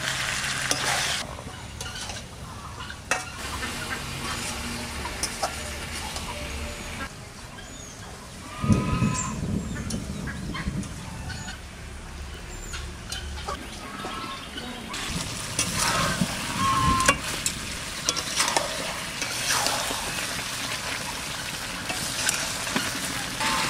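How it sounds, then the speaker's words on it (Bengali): Chicken and onions are stirred in a hot pan, giving a steady close sizzle broken by repeated scraping strokes of a spatula, with a burst of louder frying partway through. "কষাতে কষাতে পেঁয়াজগুলো সব গলে যাবে।"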